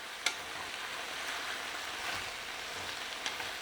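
Rapini sautés in extra virgin olive oil over medium heat, giving a soft, steady sizzle with a couple of faint clicks, quiet and without talk.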